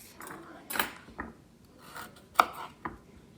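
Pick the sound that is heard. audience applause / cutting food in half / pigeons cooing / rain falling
cutting food in half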